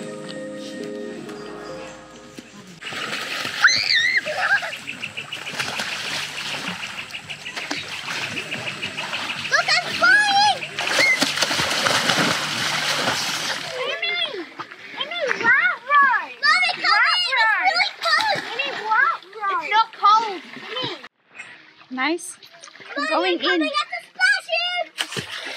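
Water splashes in Lake Eacham, a crater lake, in bursts amid children's shouts and chatter, with louder churning splashes early on giving way to talk and laughter near the shore.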